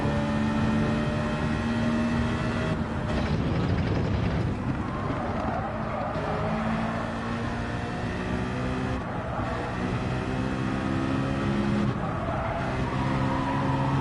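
Car tires skid and squeal in the Gran Turismo 7 racing game over a constant engine drone, sustained tire noise rising and falling across the run, with faint talk in the background.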